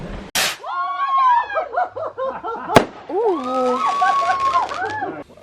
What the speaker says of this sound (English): Fireworks station.